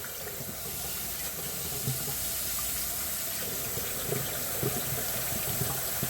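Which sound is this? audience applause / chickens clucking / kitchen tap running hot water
kitchen tap running hot water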